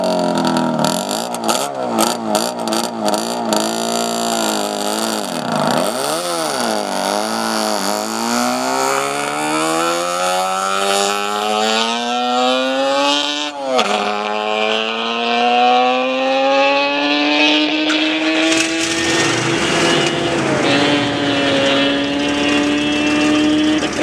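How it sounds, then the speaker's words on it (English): A stock Yamaha RZ350 two-stroke motorcycle races past, its high, buzzing engine climbing through gear changes with rising revs and a pitch shift, loud and close the whole time. "And here's a stock RZ350 Yamaha. Let's listen to this little two-stroke go."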